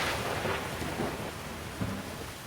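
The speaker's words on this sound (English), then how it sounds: "Lightning cracked across the sky." Thunder rumbles through a rainy storm in a children's Bronze Age adventure story, a steady wash of rain and wind with a low rolling boom and a sharper crack near the end, no talking.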